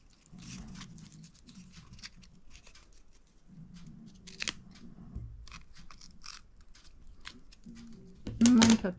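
Scissors cut through folded paper at each crease, giving short crisp snips and rustles spread through the clip under a woman's quiet speech, with a louder rustle near the end.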